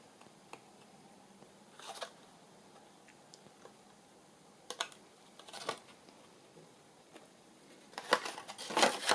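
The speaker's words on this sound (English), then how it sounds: "I'd like to round these corners. Where's my scissors?" Scissors snip around the corners of a paper file folder during a craft project, giving a few short, crisp clicks spread out and then a quicker cluster of cuts at the end, close by and quiet, with no talking.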